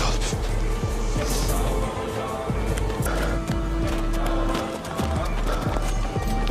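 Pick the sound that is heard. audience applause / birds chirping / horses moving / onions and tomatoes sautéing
horses moving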